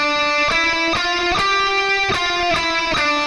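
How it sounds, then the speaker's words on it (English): A melody line played without vibrato, each note held at a steady pitch, moving through a short phrase of distinct note changes at moderate loudness with no voice. "So without vibrato, it sounds like this."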